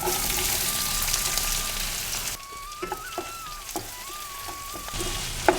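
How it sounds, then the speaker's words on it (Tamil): Onions sautéing in a pan for tomato rice give a steady, close sizzle with soft stirring scrapes, dipping briefly before the frying hiss carries on alone with no talk. "வெங்காயம் நல்லா வதங்கட்டுங்க. இப்போ வெங்காயம் ஓரளவு வதங்கிடுச்சு."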